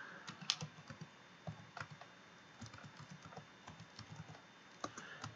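Typing on a computer keyboard during software setup, with quiet, irregular clicks and light taps, close and alone.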